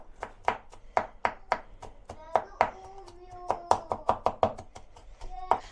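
A knife chops red peppers rapidly on a cutting board, quick sharp taps in uneven bursts, close up, with faint vocal sounds in between.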